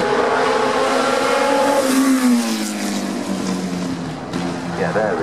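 A Hesketh Formula 1 racing car passes at Goodwood Festival of Speed, its high engine note rising and then falling in pitch as it goes by, with a commentator talking over it throughout.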